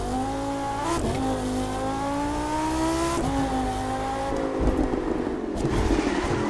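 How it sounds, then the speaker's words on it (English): A high-revving sports car engine in the video game The Crew 2 drones steadily, pitch climbing and dropping with gear shifts, with crackling lean afterburn pops as it lets off near the end. "Listen to that lean afterburn."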